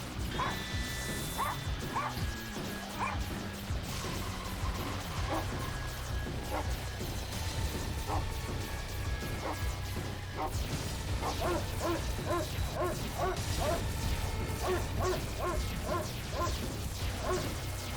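A dog enemy fight in The Binding of Isaac: Repentance, with barks, yips and smashing hits scattered over a dense, continuous bed of game music and effects, with no talking.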